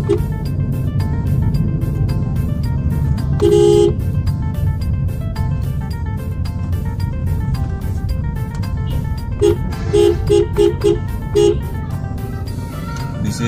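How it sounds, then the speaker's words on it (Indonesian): Horn blasts ring out from a vehicle on the road at the Batu Lobang tunnel near Sibolga: a short honk, then a quick run of several honks, over a loud, steady engine and road drone. "Di sini kita harus klakson sama pakai lampu"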